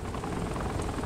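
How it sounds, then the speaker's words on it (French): A helicopter in the Saints Row video game thrums with a dense, steady rotor and engine roar, loud and continuous for a moment. "Ah mais c'est un hélico."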